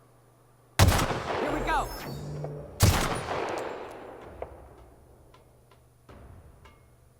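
Rifle gunfire in the video game The Outer Worlds: two sharp, loud shots about two seconds apart, each trailing into a rumbling decay, then a fainter third report, with a short shout over the first blast.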